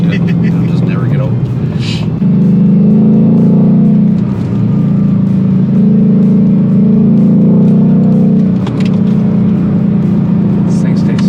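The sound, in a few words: Ford Shelby GT500 engine during a rev-match downshift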